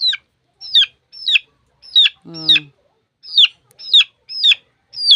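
A pet chicken clucks in short, sharp, evenly spaced calls close by, about nine in a row with one lower rattling squawk in the middle, against silence.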